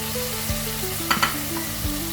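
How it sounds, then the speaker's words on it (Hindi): Spices sizzle and fry in a pan before minced meat goes in, a steady close crackle with light stirring scrapes and a few clinks of the spoon against the pan. "मसाले के साथ इसे थोड़ा सा हम भूनेंगे"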